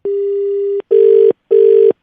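A telephone rings: one long steady tone, then two shorter buzzing rings with brief gaps between them. The tones are loud and close, with no voices over them.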